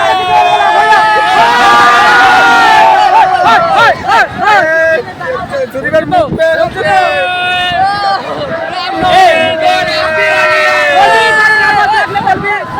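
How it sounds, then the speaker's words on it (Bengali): Busy village fair crowd, with shouting, laughter and overlapping voices close by and loud throughout, several people talking over the general din. "এই মেলায় কিন্তু প্রচন্ড ভিড় হয়, ভিড় হয়।"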